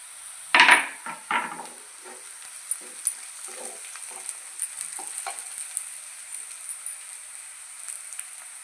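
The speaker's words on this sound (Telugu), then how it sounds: "ఉల్లిపాయలు బాగా ఫ్రై అయిపోయాయండి. పచ్చిమిరపకాయలు వేసేసుకుందాము." Onions with green chillies frying in a pan for a phool makhana masala curry, a few sharp sizzling bursts at the start fading to soft, steady crackling with occasional stirring clicks.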